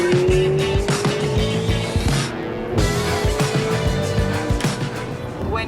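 A car driving fast along tiny, winding roads, its engine loud and close with a steady rising drone, tire noise and rhythmic bumps throughout, no voices.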